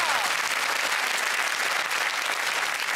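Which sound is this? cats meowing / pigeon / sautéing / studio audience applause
studio audience applause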